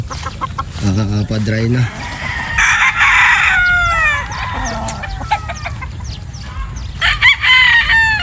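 Broodstag roosters nearby, loud and close, with several long drawn-out crows overlapping and short clucks in between, and someone speaking briefly among them.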